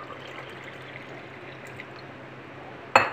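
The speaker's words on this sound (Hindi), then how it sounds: "इसमें ऊपर आप पानी डालें" Cold water pours into a glass of plum juice sharbat in a steady, soft trickle, ending with a brief louder clink at the end.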